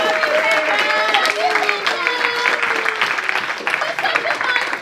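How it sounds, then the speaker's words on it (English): An audience at a charity Cards Against Humanity game show gives a round of applause, steady loud clapping mixed with cheers and shouts from the crowd, holding for the whole stretch. "Let's give him a round of applause."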